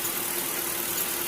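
A Mercedes S430 W220 V8 idles steadily after its first start-up, having sat unused for four years. The engine gives a constant hum with a hissy, airy exhaust tone, close and even, with no talking.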